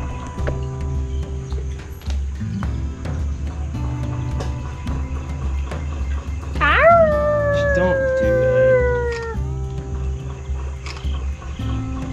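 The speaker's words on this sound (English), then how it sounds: "It won't howl unless it's asked to howl." A zoo animal, apparently a wolf, lets out a single rising then gliding howl lasting a few seconds, fairly close and clear over steady outdoor background noise and low rumble.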